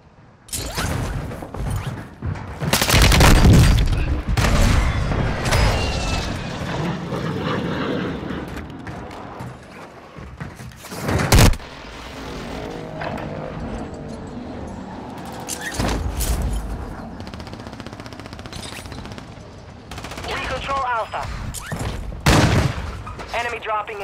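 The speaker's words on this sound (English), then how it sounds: "Friendly airstrike in the AO." Call of Duty airstrike: a loud aircraft engine roar with heavy explosions and gunfire bursts recurring across the battle, loud and close, with quieter mechanical and combat noise in between.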